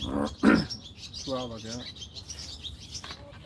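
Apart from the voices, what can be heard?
bird chirping outdoors while fishing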